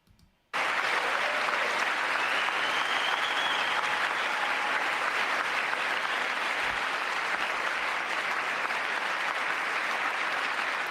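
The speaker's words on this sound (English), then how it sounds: "They're always clapping." Sustained applause filling a large chamber during Joe Biden's State of the Union address, a dense, even roar of many hands clapping that starts abruptly after a brief quiet moment and continues steadily.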